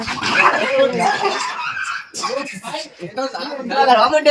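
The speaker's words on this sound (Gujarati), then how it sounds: "આ બધા કૂતરા જ છે" Several dogs yip and bark in short bursts close by at a riverside campsite, mixed with people talking over them.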